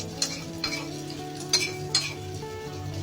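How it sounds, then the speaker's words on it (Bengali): Hot oil with garlic hits minced meat in a kitchen, giving a soft, quiet sizzle punctuated by a few light clinks and scrapes of a utensil against the dish. "তেল আর রসুন গরম করে মাংসের কিমার উপরে দিয়ে দিব।"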